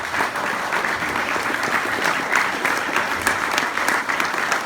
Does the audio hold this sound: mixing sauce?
no